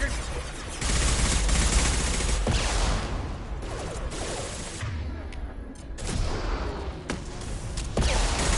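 Sustained gunfire in the video game Mass Effect 2, with dense bursts of shots and booming impacts continuing throughout, loud and close, with brief shouted voices in the mix.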